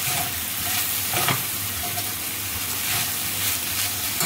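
Grated fresh coconut being stirred into cooked dal in a frying pan for a chavli leaf vegetable dish, a steady close sizzle with soft scraping stirs throughout, no talk.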